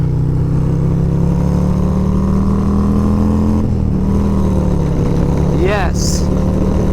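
A 2023 Harley-Davidson Road Glide ST with a 131 kit rumbles loudly and steadily while riding, with a deep continuous engine drone and wind noise, a brief dip midway and a short high chirp near the end.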